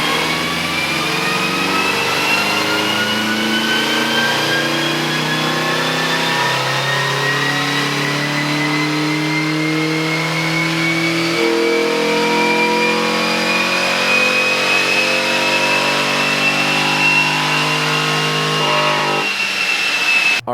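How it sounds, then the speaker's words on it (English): A 2015 Nissan Sentra on a Mustang chassis dyno, its engine revving in one long continuous pull with pitch climbing steadily through the run, loud and close with no talking. "We're gonna do a baseline right now and see what this beast puts down."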